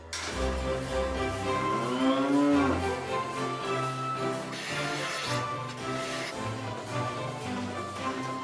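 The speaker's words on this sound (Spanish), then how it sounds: "Las vacas lecheras alimentadas a pasto natural y alfalfa son cuidadas hasta el extremo de ordeñarlas con un fondo de música clásica" Dairy cows fed on natural pasture and alfalfa moo repeatedly in long, loud, drawn-out calls that overlap one another across the whole stretch, with no talking.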